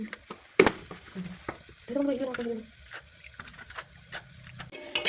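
Potatoes fry in a pan for aloo bhaja, giving a soft sizzle broken by scraping stirs and sharp clinks of a utensil against the pan, close by with no talking.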